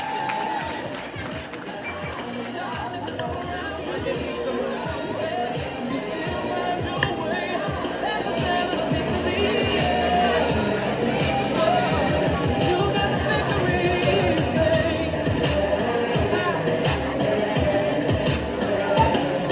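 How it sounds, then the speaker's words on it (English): Large audience at the Claude McKay High graduation ceremony applauds and cheers steadily for a graduating student, a dense continuous wash of clapping and crowd babble that holds for the whole stretch. "Give her a round of applause."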